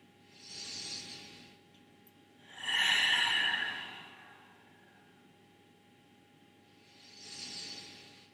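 Slow, deep breaths during a beginner stretching routine: a soft exhale, a longer louder hissing breath, then another gentle exhale, close to the microphone with quiet gaps between.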